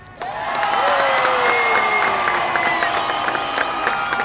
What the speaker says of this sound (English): it's time to applaud